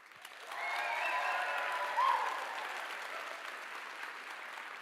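An audience at a live Christmas concert breaks into sustained applause, the clapping swelling quickly and then holding steady with a few whoops, filling the room for several seconds.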